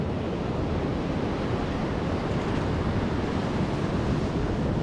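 A continuous, heavy rush of surf and wind, dense and unbroken, with the roar of strong waves filling the whole stretch.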